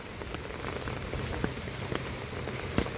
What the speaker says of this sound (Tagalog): hayaan mo na yung ulan na yan.